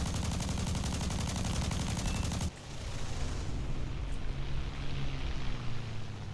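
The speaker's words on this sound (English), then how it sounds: "Oh, the air burst. I see that Minengeschoß pop in the background." Minengeschoß air-burst shell detonating in a video game, heard as a loud, dense burst of gunfire-like crackle that cuts off abruptly, leaving a quieter rumbling battle ambience with distant pops.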